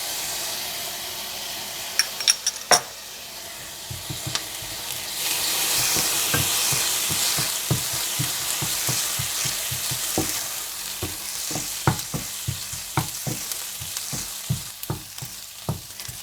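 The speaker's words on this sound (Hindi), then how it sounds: "जब प्याज हल्के से सॉफ्ट हो जाएं तो आप इसमें हरी मिर्चों का पेस्ट डालकर हल्का सा भून लीजिएगा।" Onions and green chilli paste fry in a pan with a steady sizzle and hiss, as a utensil scrapes and taps the pan in repeated strokes, close and clear with no talking.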